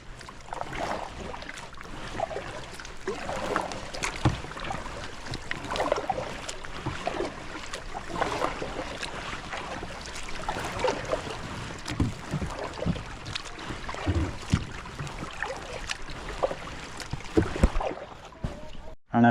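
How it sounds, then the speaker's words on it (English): Kayak paddles dip and splash through calm water in a canyon stretch closed to motorboats, an irregular series of soft strokes and drips, near and moderately quiet, with faint background voices. "as we're paddling."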